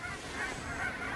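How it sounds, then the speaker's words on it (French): Canada geese over a large lake give a brief run of nasal honks, moderately loud and repeated across the short moment, with light wind behind and no talk. "Des grandes oies du Canada."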